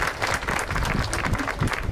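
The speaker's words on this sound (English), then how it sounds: "So give him a round of applause" An audience at a children's park playscape grand opening breaks into steady applause, a dense crackle of many hands clapping at close range throughout.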